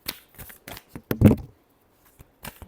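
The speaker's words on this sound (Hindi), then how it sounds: "last shuffle" Tarot cards being shuffled by hand, a quick series of crisp riffling flicks with a louder burst in the middle, then a few sparse taps, close and alone.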